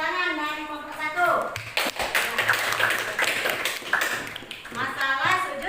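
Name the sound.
applause for group 1 in a classroom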